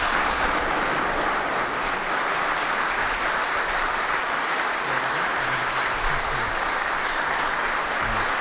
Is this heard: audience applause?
yes